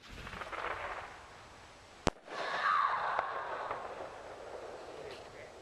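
A single sharp firecracker crack at a family New Year's Eve fireworks night, followed by a hissing, crackling sputter that fades over a few seconds against faint outdoor background noise.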